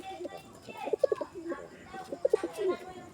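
Pet pigeons cooing close by, soft repeated throaty coos coming in short bursts with a background voice talking quietly underneath.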